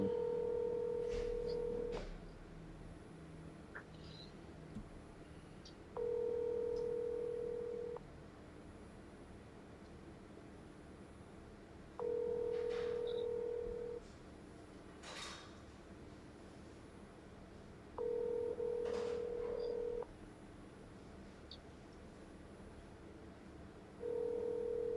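Touch-tone telephone dialing sounds in short bursts of steady tones, repeating at regular intervals roughly every six seconds, with quiet room noise between them.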